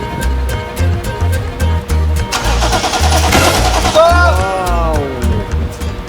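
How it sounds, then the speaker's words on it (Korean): A car engine cranks during a fuel pump start test on a vehicle with a no-start fault, with a rhythmic starter churn that runs for several seconds, loud and close. "연료 한 번 크랭킹."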